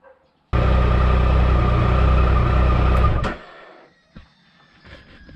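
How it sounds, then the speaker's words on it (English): A Triumph Tiger Sport 1050 motorcycle engine idles with a steady, loud, close rumble for under three seconds, then cuts off abruptly, leaving faint clicks and room quiet. "So I'm just going to run the engine for 5 minutes or so"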